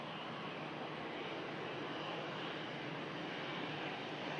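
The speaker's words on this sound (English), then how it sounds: "You can see the aircraft using 2-3 rights for the arrivals and 2-3 left for the departures." Aircraft at Manchester Airport, arriving and departing on the runways, heard as a steady, broad engine roar that holds at a fairly constant level throughout, with no talking.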